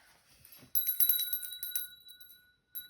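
A bell rings out with a bright sustained metallic tone after a faint rustle, holding steady tones that decay, followed by a brief second ring at the end, fairly quiet and alone.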